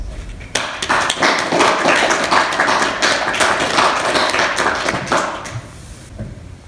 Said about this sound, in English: I think each of you deserves a round of applause